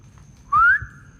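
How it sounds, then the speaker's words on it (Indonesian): A person gives one short, loud, clear rising whistle inside the Arjawinangun hospital, a single clean note standing out against a faint low hum. "gue coba pakai siulan dulu ya guys"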